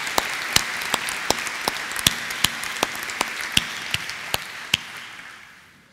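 Applause at a University of Dundee graduation ceremony: a soft wash of crowd clapping under a series of sharp, evenly spaced individual claps that ring out loud and close for about six seconds.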